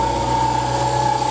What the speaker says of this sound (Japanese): これでエンジンつけてみて、シンクロメーターで同調取っていきます。